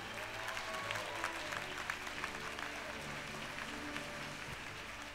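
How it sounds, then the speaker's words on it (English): A convocation hall audience at a university graduation gives a round of applause. It is a continuous, even spread of many hands clapping, fairly soft and distant, with a faint crowd murmur underneath. "Can we give them a round of applause, please?"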